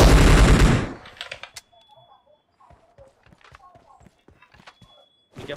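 PUBG Mobile gunfire: a dense loud burst of automatic shots at the start that cuts off, followed by scattered quieter clicks and thuds and a final burst of fire at the end, with a voice talking in between.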